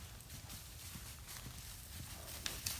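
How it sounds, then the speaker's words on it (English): Horses come running over on a farm, their hooves giving soft, uneven clip-clops under a faint outdoor background, with a couple of sharper knocks near the end. "These horses came running over to us."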